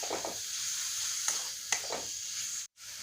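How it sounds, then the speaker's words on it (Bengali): Kashmiri chili powder fries in oil in a pan over a low gas flame, giving a steady soft sizzle with a few faint stirring clicks before a brief sudden drop to silence. "এটা এখন খুব ভালোভাবে ভেজে নেবো একটু। এটা জল দিলে হবে না, গ্যাসের ফ্লেমটা লোয়ে রেখে একটু ভাজতে হবে।"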